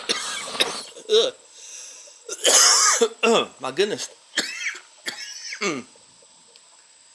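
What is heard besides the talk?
coughing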